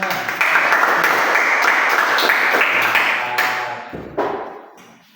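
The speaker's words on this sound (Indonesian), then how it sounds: "berarti tepuk tangan untuk semua." Students clap together in a classroom group session, a close, loud burst of hand claps lasting about three seconds before thinning into a few scattered taps and fading.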